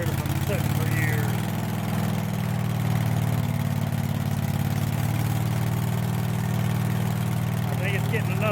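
An old Craftsman lawn mower engine with a carburetor fault from years of sitting runs nearby with a steady, loud, low drone, its pitch wavering slightly, while a voice talks over it.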